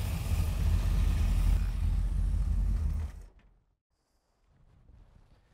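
A gasoline car engine idles steadily after a Sea Foam spray intake cleaning treatment, then cuts off abruptly, leaving near silence followed by faint low background noise.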